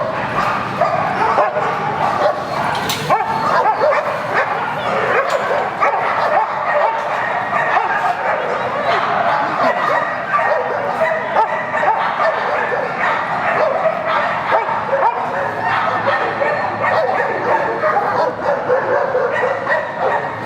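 Many dogs at an animal welfare society shelter bark, yip and whimper together without stopping, loud and close, with voices faintly mixed into the noise.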